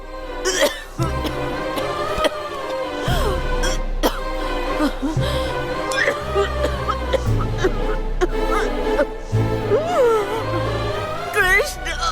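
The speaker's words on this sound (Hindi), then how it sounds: "वो जब से हमारे घर में आई है तब से खांस ही रही है।" A woman coughs repeatedly in a dramatic domestic scene, with short harsh bursts spread across the stretch amid music and other voices.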